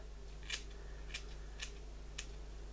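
Four crisp scissor snips through hair at a steady, unhurried pace, close up, over a low electrical hum.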